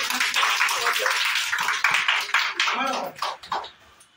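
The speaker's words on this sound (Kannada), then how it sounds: "ಅವ್ರಿಗೆ ಜೋರಾದ ಚಪ್ಪಾಳೆ ಮಾಡಿ" A class 4 classroom of children claps loudly, with many quick, uneven claps overlapping with voices before the clapping thins out and fades toward the end.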